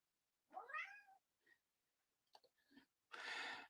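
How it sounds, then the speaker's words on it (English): A cat meows nearby, a clear rising-falling meow, followed by a few soft short sounds and then a brief breathy rustling burst at the end. "I love that Earl meowed just as you posted that"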